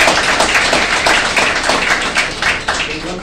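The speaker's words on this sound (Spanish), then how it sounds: "Un aplauso verdaderamente." A church congregation bursts into dense, sustained applause, with many hands clapping close together and fading slightly toward the end.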